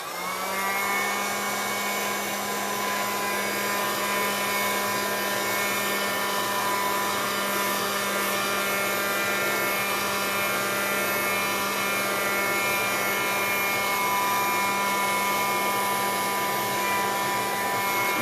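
Heat gun blowing on an MDF panel during decoupage work, a steady loud motor whine and airy rush that holds constant throughout, close by with no speech.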